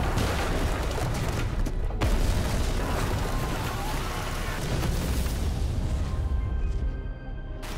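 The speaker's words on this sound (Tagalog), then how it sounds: "pinasabog ni Ando ang explosive device na agad pumatay sa lahat ng nasa loob ng punerarya" An explosive device detonates inside a funeral home in a film scene, giving a loud, rumbling blast with a sharp burst near the start. Debris-like roar follows and then trails off.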